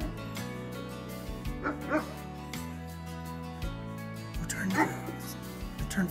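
A dog barks, yips and whimpers in short bursts over steady background music, with people talking nearby.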